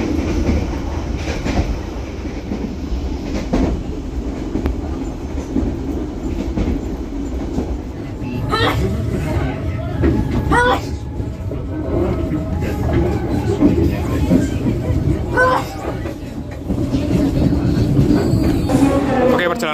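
A passenger train, the Pasundan Lebaran service in Indonesia, rolls steadily along the rails, with rhythmic clacking from the wheels and a continuous heavy rumble, heard close by.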